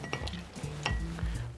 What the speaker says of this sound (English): Now what we're going to do is we're going to muddle this gently